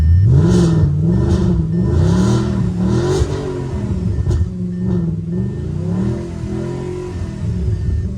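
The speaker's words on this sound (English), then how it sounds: "So I'm just going to rev this a little bit now, so hopefully you can hear it." Audi RS5 engine revved several times in a row, rising and falling in pitch with each throttle blip, loud and close, then settling toward a steadier idle-like drone.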